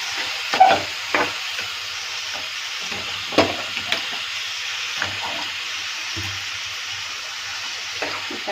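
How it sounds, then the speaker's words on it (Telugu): Vegetable pieces stirred in a hot pan, soft sizzling under scattered scrapes and knocks of a spoon against the pan, close and unhurried, with no speech. "సరే, మొత్తం ముక్కలన్నిటినీ కూడా ఇలా కలిపేద్దాం"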